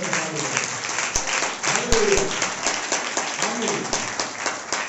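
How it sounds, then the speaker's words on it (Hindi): A church congregation claps during a Sunday morning service, a fairly dense patter of hands with a few sharper claps standing out, while a voice murmurs faintly underneath. "आइए फिर से प्रभु की महिमा में तालियां दें"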